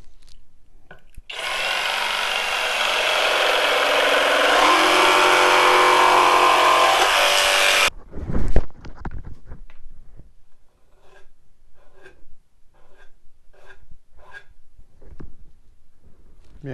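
A FLEX jigsaw cuts through hardwood with a loud, harsh, buzzing roar for about six seconds, then stops abruptly. A brief clatter of handling follows, then faint scattered ticks in near silence.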